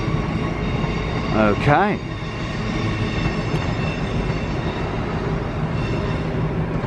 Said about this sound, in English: here's the XPT about to go out. It's heading out.